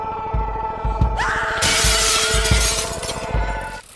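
Glass shatters in a sharp, bright crash, with fragments tinkling and scattering for a few seconds after the impact, loud and close, alone with a low pulsing thud underneath.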